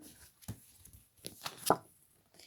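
Tarot cards cut and shuffled by hand, giving a few soft, brief papery slaps and riffles spaced across a quiet moment, the last one sharper and louder.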